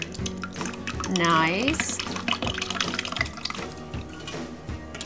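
Homemade ricotta curds and whey pour into a strainer and drain, giving a close, splashing trickle of liquid with a rising gurgle, while a voice speaks briefly over the pouring.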